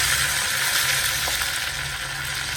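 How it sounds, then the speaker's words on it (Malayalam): Curry leaves go into hot oil with torn dried red chilies for a Kerala theeyal, a loud, continuous sizzle right up close. "കറിവേപ്പില ഇട്ട് കൊടുക്കാം."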